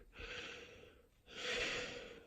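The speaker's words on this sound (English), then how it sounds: "inhale and exhale, which is a calming signal" A slow, deep breath in and out, given as a calming signal to Hugo the dog settling on a mat: two long, soft breathy swells separated by a short pause, close and quiet with no talking.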